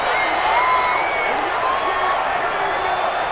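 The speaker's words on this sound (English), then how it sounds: "the crowd getting into it as we come up on a big third down" A simulated stadium crowd in Madden NFL 20 during a Raiders versus 49ers game roars steadily, a broad, continuous wash of cheering with occasional whistles and shouts over a big third down.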